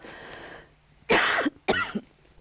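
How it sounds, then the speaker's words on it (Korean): Two sharp, close coughs from a man on a Korean broadcast panel, following a faint stretch of background sound. "사실대로 얘기하자면 자꾸 기침이 나오는 거예요."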